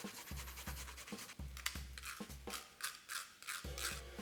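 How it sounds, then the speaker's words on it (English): Fresh ginger shaved on a hand grater, a rapid run of rhythmic rasping scrapes close up, steady back-and-forth strokes with a low thump at each pass. "grab your ginger, grab your grater and start shaving"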